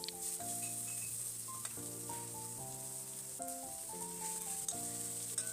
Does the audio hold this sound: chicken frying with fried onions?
yes